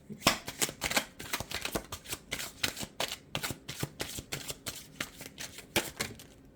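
Tarot cards riffled and flicked from a deck, a quick run of crisp papery slaps and snaps in uneven bursts, close and fairly loud with no voices.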